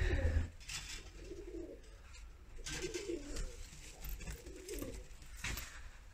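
Domestic pigeons in a coop coo in repeated soft, low rolling phrases, several calls overlapping at close range with faint background noise.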